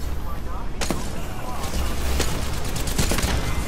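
Gunfire in the video game Apex Legends, several sharp shots in quick succession over a steady background rumble.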